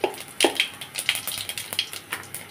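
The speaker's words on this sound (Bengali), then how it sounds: "ওই কড়াইয়ের মধ্যে আমি জিরা ফোড়ন দিয়ে দিচ্ছি।" Cumin seeds crackle and pop as they temper in hot oil in a wok, giving sharp, irregular bursts of spitting over a soft, steady sizzle.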